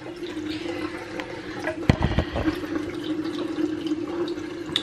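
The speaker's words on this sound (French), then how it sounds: "L'eau elle met du temps à chauffer, c'est une folie tout ce qui coule là alors que c'est pas chaud." A kitchen tap runs water steadily while it slowly heats, a continuous splashing stream with a few clunks and knocks near the middle, heard close up without speech.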